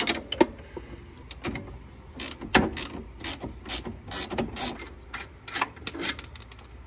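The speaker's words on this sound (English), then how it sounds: "I'm gonna take the bolt out of the lower control arm." Mechanical ratcheting and clicking from a tool working the lower shock bolt on a Honda Rancher ATV with a solid rear axle, heard as irregular bursts of sharp clicks, close and moderately loud.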